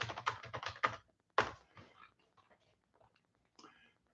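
Quiet typing on a computer keyboard: a quick burst of close key clicks, a single harder tap, then scattered lighter taps with soft whispered speech in between.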